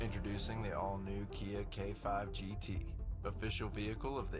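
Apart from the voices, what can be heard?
None of the usual background noises is heard.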